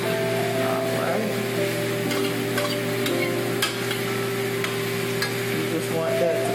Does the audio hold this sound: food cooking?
yes